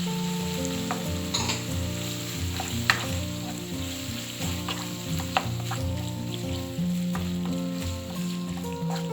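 Tomatoes fry in a pan for a Sri Lankan spicy egg curry, a steady close sizzle running throughout with occasional soft stirring scrapes and clicks, no voices.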